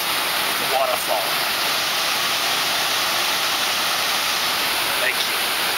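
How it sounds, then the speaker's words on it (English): A garden waterfall gives a continuous, even rush of falling water, loud and close throughout with no pauses. "I'd just like to point out that that's the waterfall."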